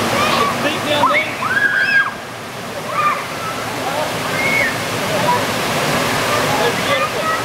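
The Water Fall Steps on Siquijor Island, Philippines, roar steadily as water pours and sloshes nearby, with children's voices and birdlike chirps rising over the constant rush.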